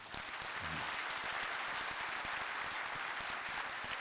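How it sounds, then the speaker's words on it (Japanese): A crowd applauds steadily at an outdoor street speech gathering in Yurakucho, Tokyo, a dense wash of clapping that holds at an even level for the whole stretch. "およそ9割2分ぐらいの人が拍手してくれたね"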